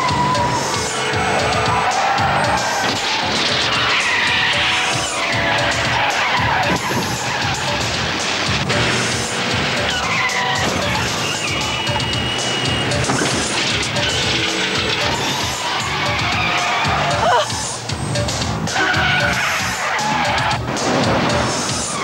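A car accelerates hard and skids during an action-film chase, engine roar and tire squeal filling a dense, loud mix with crash-like bursts, layered with other effects and little speech.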